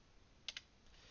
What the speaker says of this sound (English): you just press the delete key on your keyboard